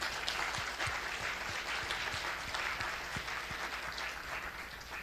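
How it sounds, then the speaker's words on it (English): Sustained audience applause at a hackathon awards event, a dense even patter of many hands clapping throughout, moderately loud and without speech over it. "So big round of applause for this big effort,"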